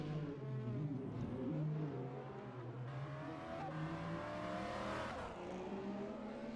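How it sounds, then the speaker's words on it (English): A Jaguar race car in a virtual 24-hour endurance racing game roars past with a steady, thundering engine note that holds loud and continuous for several seconds, with no talk over it. "The thundering engine of that Jaguar going past once more"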